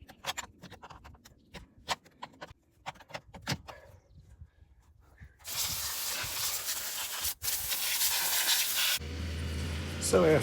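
Water sprays in loud hissing bursts to clear packed clay from a Groundhog Max plow, following scattered knocks and scraping, with a steady rushing spray taking over near the end.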